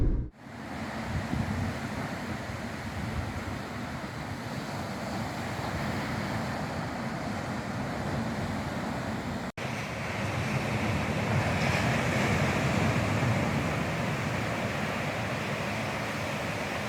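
Ocean surf from a typhoon swell off Amami Oshima, Japan, rolls in as a steady, full roar of breaking waves with wind noise, continuous and close throughout.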